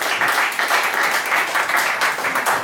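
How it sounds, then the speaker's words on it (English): An audience at a poetry showcase applauds steadily and loudly throughout, a dense wash of many hands clapping with no break. "A random applause still, again, for Roland."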